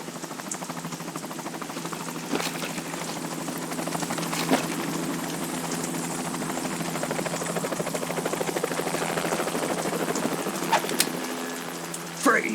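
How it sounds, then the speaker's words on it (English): A helicopter in a PS2 video game demo drones steadily with a fast rotor buzz throughout, loud and close, with a few faint clanks over it. "You will be on the helicopter out of here now."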